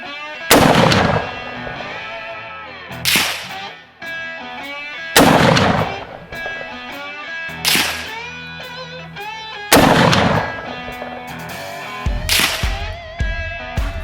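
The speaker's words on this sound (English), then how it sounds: "Three shots" Marlin 336C lever-action rifle chambered in .30-30 Winchester fired outdoors at close range: several loud, sharp reports spaced a few seconds apart, each ringing out with a long tail.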